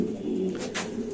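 A grizzle-coloured pigeon coos close by, a soft throaty burbling call repeated across the moment, alone with no talk.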